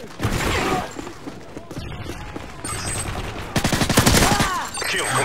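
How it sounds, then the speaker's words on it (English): Rapid bursts of machine pistol fire ring out in a Modern Warfare 3 Kill Confirmed online match, dense crackling volleys mixed with other game effects and faint voices, fairly loud and near. "It's a weird gun, it's like a machine pistol"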